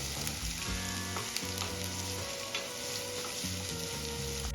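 Chopped onions for murmura sushila sizzle and fry in a pan while being stirred until golden, with a steady hiss and crackle and rhythmic scraping of the spoon, close up with no talking.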